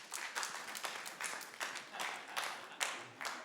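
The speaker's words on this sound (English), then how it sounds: "let me feel you clap if you never smoke weed" A comedy club audience claps in scattered rhythmic bursts, fairly faint and distant, with repeated swells of hand claps across a few seconds.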